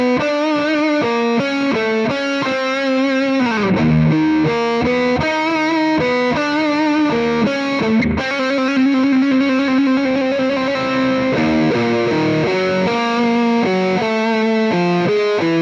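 Distorted metal guitar through a Mesa Mark V 25 amp with channel 1 sprung reverb turned up full, heavy chugging riffs and sustained chords played continuously and loud, with reverb tails and no voice.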